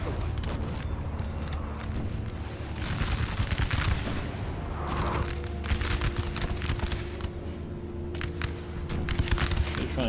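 Musket volleys roll across a Napoleon: Total War battlefield at Friedland 1807, dense crackling bursts of massed fire rising and falling in waves, with booming undertones and scattered talk over the din.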